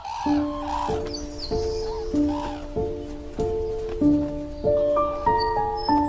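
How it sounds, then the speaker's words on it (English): Cranes on Hokkaido call during a courtship dance, giving a series of loud, close, ringing trumpet-like cries in a steady repeating rhythm, with overlapping bird calls layered between them. "All cranes dance, but none of them seem as enthusiastic as these elegant birds."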